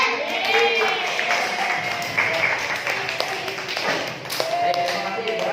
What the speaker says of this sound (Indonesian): Yaitu kelompok Nadine, boleh tepuk tangan.